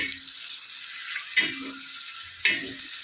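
Chillies roast in hot, spattering oil for chutney, giving a steady bright sizzle with two louder pops rising above it, and a low voice briefly underneath.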